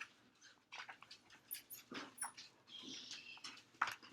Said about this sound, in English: I was distracted by the dogs